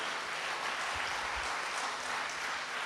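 A church congregation at a charismatic Pentecost gathering claps together in praise, a dense, even wash of applause filling the room for a few seconds without speech.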